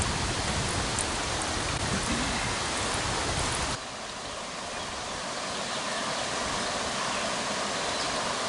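Steady, continuous splashing of water pouring and trickling through a brown filter bag into a can, loud at first and slightly softer after a few seconds.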